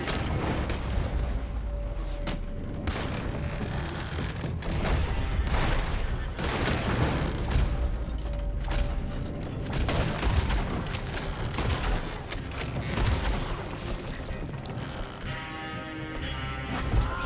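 Sustained gunfire rages in Red Dead Redemption 2, dense overlapping shots and rapid volleys cracking continuously through a loud battle with a constant rumble beneath.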